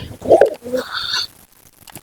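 A pigeon coos close by, a short soft burbling call that fades into quiet.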